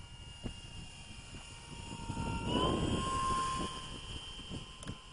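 Avios Grand Tundra radio-controlled model airplane on a 6S 5000 battery flies overhead, a steady electric motor and propeller whine that swells as it passes closer around the middle, then eases off, with no talk.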